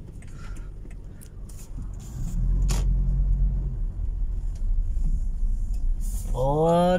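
Cars pulling into a petrol station on a road in Madinah, heard from inside a parked car: a steady low engine rumble and passing traffic, with a vehicle rolling in close by and a brief whine near the end.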